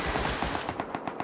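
Rapid automatic gunfire aimed at bears in the survival video game Rust, a fast, even string of sharp shots, about seven per second, loud and continuous, with no voices.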